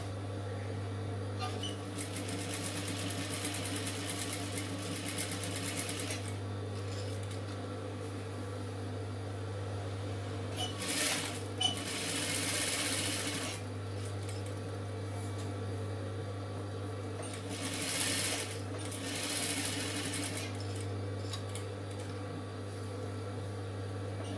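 A sewing machine stitches the neck of a chudidar in a tailoring setting, giving a low steady motor hum with bursts of faster stitching chatter, close by and moderately quiet throughout.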